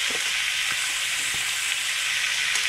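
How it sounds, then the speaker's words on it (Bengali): Cauliflower, potato and peas fry with salt in a pan, giving a steady, close bright sizzle with a few faint stirring knocks and no talk. "কপি আলু আর মটর কমসে কম 5 মিনিটের মতন আমি ফ্রাই করে নিচ্ছি এইভাবেই, শুধু নুন দিয়ে।"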